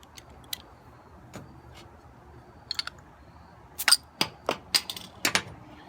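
A beer bottle, a Lagunitas Doppelsticky, is opened with a few sharp clicks and taps, then a cluster of louder metallic snaps near the end. The sounds are close against a quiet background, with no talking.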